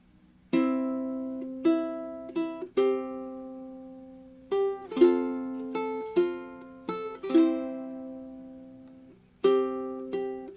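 Slow fingerstyle ukulele playing the opening bar of O Holy Night, single plucked notes and soft chords ringing and decaying one after another with gentle pauses, close and clean without any talk.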